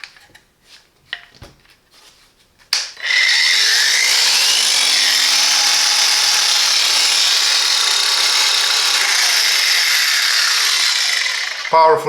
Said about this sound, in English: Beautiful angle grinder.